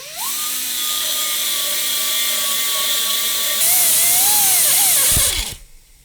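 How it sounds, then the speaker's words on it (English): Die grinder cutting into an aluminum flatbed hitch mount: a steady high whine runs for several seconds, then the pitch shifts and grows harsher as the bit bites into the metal before spinning down, close and loud with no talk. "Die grinder, and we'll just finesse this guy."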